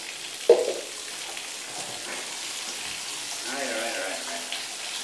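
Water runs steadily in a tiled bath while a cat is being washed, a soft continuous hiss with one brief knock near the start and faint background sounds.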